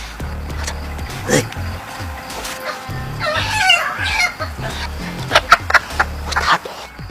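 Chickens cluck intermittently in a comedy scene about chickens being stolen, heard over a busy background of voices and rustling movement. Several sharper squawks rise near the end.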